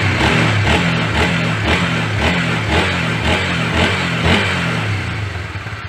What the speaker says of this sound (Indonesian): Kita tes respon gas dengan respon mesin.